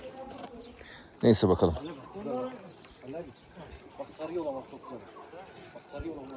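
Bird calls from a private hunting ground in Uşak, Turkey, a yellow male among them, come as short repeated notes mixed with steady conversation, with a loud burst of voices near the start.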